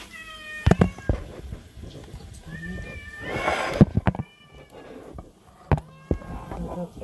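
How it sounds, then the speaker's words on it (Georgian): Several cats meow repeatedly at close range while being fed at home, with short insistent calls separated by gaps and a louder burst of rustling and movement midway. "კატები მთხოვენ საჭმელს"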